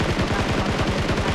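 Rapid automatic gunfire in the mobile battle royale game PUBG Mobile during a competitive match, a loud, dense string of evenly spaced shots filling the whole moment.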